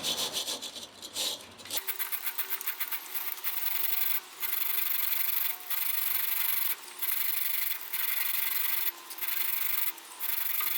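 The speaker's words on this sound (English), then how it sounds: "I'm just going to give all this a wire brush and get it a bit cleaner" A wire brush scrubs rust off the pulleys of a Belle Mini Mix 140 cement mixer, repeated harsh scratchy strokes in steady bursts with brief pauses, close and clear.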